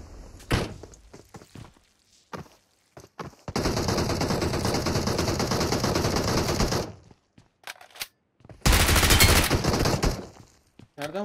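Bursts of automatic gunfire in the mobile battle-royale game PUBG Mobile, with several scattered shots, a sustained rapid volley lasting about three seconds, then a second loud close burst.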